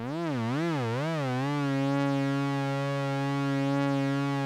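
Synth pad with its first oscillator's pitch wobbled too heavily by an LFO, a sustained tone swooping up and down for about a second and a half before settling into a steady held chord, alone.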